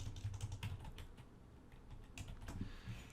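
Rapid clicking of typing on a computer keyboard while composing an email, a steady run of light close keystrokes for about three seconds with no talking.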